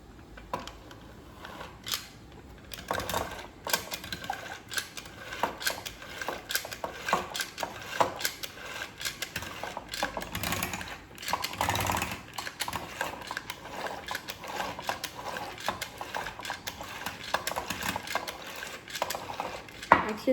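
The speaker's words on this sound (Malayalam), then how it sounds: "നമുക്കൊന്ന് ഇതൊന്ന് ബീറ്റ് ചെയ്തെടുക്കാം." Batter is beaten by hand in a bowl for baking, making a fast, continuous run of light clicking and scraping strokes against the bowl, close up and steady throughout, with no talking.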